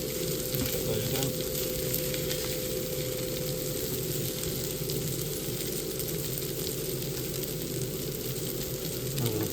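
Lentil protein noodles frying in a hot pan for a soy, ginger and garlic yakisoba stir fry, giving a steady, close sizzle that holds evenly throughout with no pauses.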